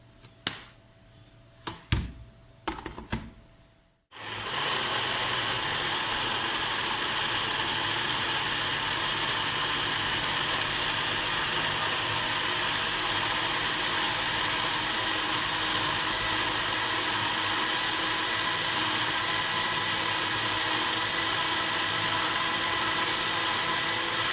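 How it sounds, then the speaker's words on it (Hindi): A mixer grinder whirs loudly and steadily, blending tomatoes into paste for a long stretch after a few brief knocks and clicks at the start. "देखिए मैंने मिक्सर में डाल दिया है। अब हम आते हैं इसको चलाने की तरफ।"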